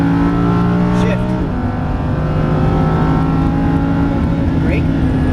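Lamborghini Huracan LP610-4 engine on a racetrack, revving loud and close with a steady droning pitch that breaks sharply at a gear shift, then climbs again under brief instructor talk.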